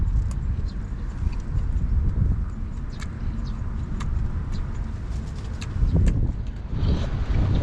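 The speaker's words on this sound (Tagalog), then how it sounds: "Sarap ng hangin." Wind blows outdoors as a steady broadband rush, with faint intermittent clicks and knocks throughout and no talking.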